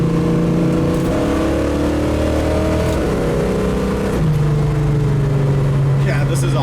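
A 1973 Dodge Challenger accelerates hard through first, second and third gears. The close, loud engine note climbs in pitch and then drops at each shift, with a steady roar throughout.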